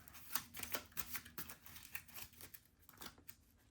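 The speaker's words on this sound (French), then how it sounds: "Le reste des cartes, on va les mélanger." A deck of cards for the war board game 6 Faces of War being shuffled by hand, a quick run of crisp riffling snaps and flutters close up, fairly quiet, with no talking.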